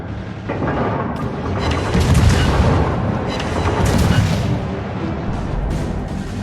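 Naval guns booming in a French Jaguar warship battle game, a sustained roar of heavy gunfire and rumbling blasts that peaks midway and trails off slightly, with no talk over it.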